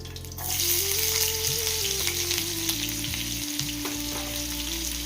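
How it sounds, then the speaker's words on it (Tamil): Sliced onions with salt sizzle steadily in a hot pan, a continuous close frying hiss starting after a brief moment of quiet and holding evenly throughout, with no talking. "அது சீக்கிரம் வதங்கிறதுக்கு நம்ம 2 உப்பு போடலாம். நல்லா கோல்டன் கலரில் வர வரைக்கும் நம்ம வதக்கிக்கலாம்."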